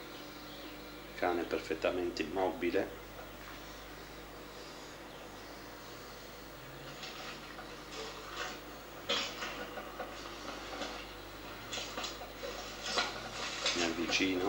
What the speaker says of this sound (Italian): Questo rumore che si sente è il rumore degli stivali nel fango